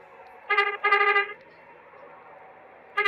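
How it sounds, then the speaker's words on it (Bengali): A bus horn on a road, two loud close honks in quick succession, then a quiet stretch and another blast starting at the end. "সামনে ইমাদ বাসটি কিন্তু হর্ন দিচ্ছে, হর্ন প্লাস সাথে ডিবার দিচ্ছে"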